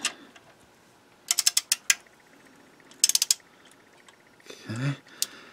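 A torque wrench ratchets while tightening bolts on a 1997 Toyota Camry transmission, heard as close bursts of rapid clicks in two clusters followed by a brief creak, with quiet gaps between them.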